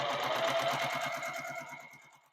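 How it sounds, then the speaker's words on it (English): A home sewing machine stitching a quarter-inch seam across pieced log cabin quilt fabric, a steady rapid mechanical rhythm of needle strokes running alone and slowly fading toward the end. "take it to our sewing machine and sew a 1/4 inch seam"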